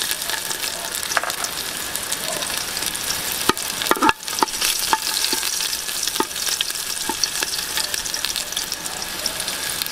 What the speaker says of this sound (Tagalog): pagkatapos natin magprito-prito ng konti, may igigisa na natin yung ating bawang